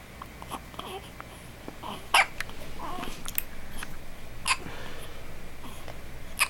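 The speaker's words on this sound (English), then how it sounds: "Somebody has the hiccups." A baby girl hiccups several times, each a sharp, brief catch spaced a couple of seconds apart, amid soft infant babbling and faint room noise.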